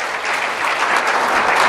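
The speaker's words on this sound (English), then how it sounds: "So let's give them a round of applause for being brave." An audience claps for Kari and Aaron at their church baptism service, a steady round of applause that swells slightly toward the end.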